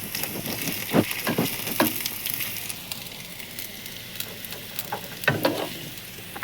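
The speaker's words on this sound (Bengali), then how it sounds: "তোমরা দেখতে পাচ্ছ আমি আলু ভেজে নিচ্ছি" Potatoes frying in a pan, a continuous crackling sizzle with a few louder pops and clatters, close by and fairly loud, with no talk.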